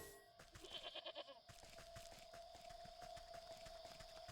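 A goat in the video game Wytchwood gives a bleat over steady game music with a plucked rhythmic beat and a sustained tone.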